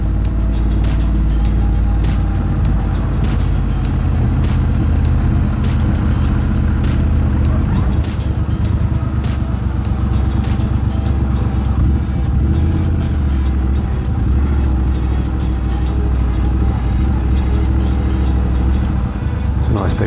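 A Triumph Bobber motorcycle fitted with British custom exhaust pipes idles with a loud, deep, steady rumble, echoing off nearby buildings outdoors, heard up close throughout.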